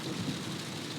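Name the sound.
heavy rain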